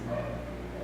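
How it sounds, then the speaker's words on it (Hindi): Neighbourhood dogs bark somewhere outside, a brief muffled yapping heard faintly at a distance. "मोहल्ले के कुत्ते लोग ज़्यादा भौंक रहे हैं"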